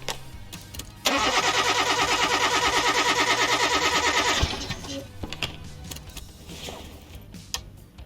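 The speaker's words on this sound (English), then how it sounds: "Let's use the compression tester." A car engine cranking with a compression tester attached in Car Mechanic Simulator 2018, with a steady rhythmic starter whir lasting about three seconds, followed by quieter mechanical clicks and game ambience.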